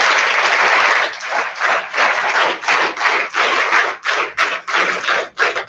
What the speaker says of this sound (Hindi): अब बच्चों एक बार फिर तालियां बजाएं।